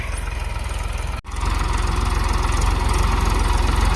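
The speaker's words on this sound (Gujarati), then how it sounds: "અત્યારે ટ્રેક્ટર આવી ગયું છે, 4 વાગે આવ્યું હતું." A tractor engine runs nearby in a loud, even, throbbing idle, with one brief dip before the rumble carries on steadily.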